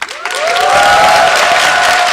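Crowd at a Windows 8 app developer conference bursting into loud clapping with shouts and cheering, swelling quickly from a thin start into a dense, close roar of applause.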